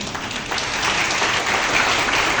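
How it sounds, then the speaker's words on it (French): Sustained applause from a graduation ceremony audience at the Centre d'étude biblique international, a dense, steady wash of many hands clapping that fills the room without pause. "sous vos applaudissements"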